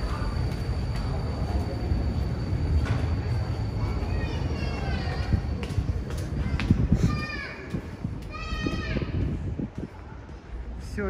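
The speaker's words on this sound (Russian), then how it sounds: "И выходим из метро в трамвай." A Vienna metro train and tram roll along a busy street with a low rumble, while squealing, whistling tones rise and fall near the end. Children's voices and other talk carry throughout.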